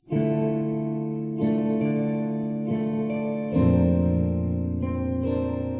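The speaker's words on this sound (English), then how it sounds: "it already has a touch of reverb that sounds beautiful in my opinion" Sustained tonal chords played through a free effects plugin on its default setting with a slight reverb, several held chord changes, loud and smooth with a soft lingering tail and no voices.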